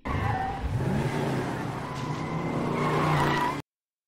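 A car drives hard in a movie scene, its engine revving while tires squeal and skid, loud and continuous for about three and a half seconds before cutting to silence.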